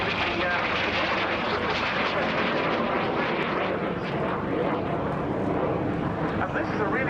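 A 1961 Jet Provost jet trainer with a Rolls-Royce Viper engine roars past at a flight display, a continuous broad whine and rumble under a commentator's voice.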